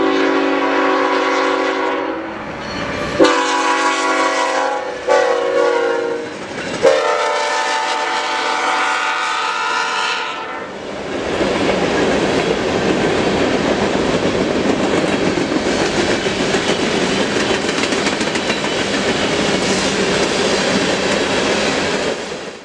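A freight train with Burlington Northern hopper cars rolls past at a railfanning spot, opening with loud horn blasts and tonal squeals, then settling into a steady, close rumble and clatter of wagons that continues to the end.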